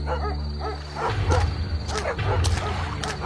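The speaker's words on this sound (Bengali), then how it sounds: "এত রাতে এত জোরে জোরে কুকুর ডাকছে কেন?" Cartoon dogs bark loudly at night in a quick series of yelping bow-wows over a low musical backing.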